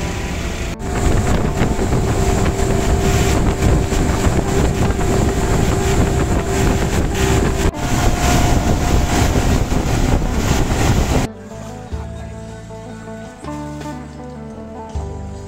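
A fishing boat's engine runs at sea off Kuching, Sarawak, a loud steady drone with strong wind buffeting the microphone, cutting off abruptly to quieter water and boat sounds near the end, with no talking.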